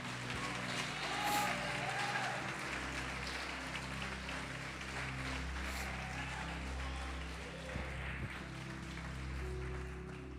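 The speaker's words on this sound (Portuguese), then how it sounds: "Pode aplaudir e glorificar" A church congregation claps and applauds during a sermon, a steady broad wash of hands filling the room at moderate level with a low hum beneath, some voices mixed in.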